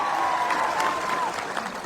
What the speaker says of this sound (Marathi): त्या माणसासाठी एक टाळ्या सगळ्यांसाठी टाळ्या